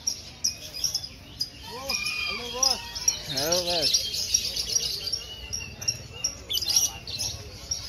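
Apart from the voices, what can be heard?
birds chirping at a bird market in Yogyakarta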